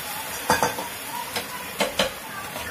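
Yogurt being stirred into potatoes in a pan, with a few soft spoon scrapes and clinks over a low steady sizzle.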